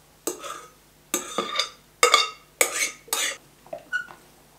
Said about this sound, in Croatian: Ovo samo lagano promiješajte.